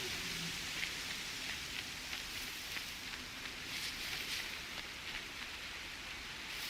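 Rain falls in the video game Horizon Zero Dawn, a constant dense hiss with scattered sharper drop ticks, steady throughout with nobody speaking.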